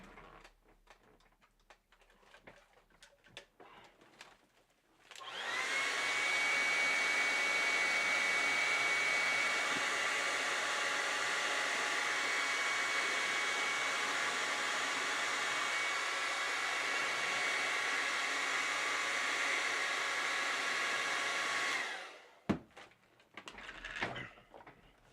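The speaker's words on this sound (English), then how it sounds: "I'm just going to blast it with a hairdryer." Hair dryer blasting air onto the basing of a miniature, starting abruptly, holding a steady loud whirring hum with a faint whine for about seventeen seconds, then cutting off, with light handling clicks before and after.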